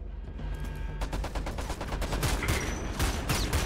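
Rapid rifle gunfire in the video game Homefront: The Revolution, a dense burst of sharp shots fired close and loud in quick succession with no break.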